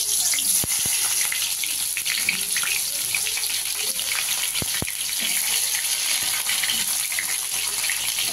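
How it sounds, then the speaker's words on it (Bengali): Bitter gourd pieces frying in hot oil in a wok, a steady loud sizzle and hiss with a few sharp pops, heard alone without talk. "তেল গরম হয়ে গেছে, আর উচ্ছেটা দিয়ে দিচ্ছি এক এক করে।"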